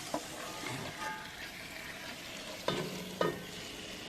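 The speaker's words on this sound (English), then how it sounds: "Sizzle, sizzle, sizzle." Meat sizzles steadily in a hot cooking pot while being stirred, a continuous frying hiss with a few sharp clanks of the utensil against the pot, no talking.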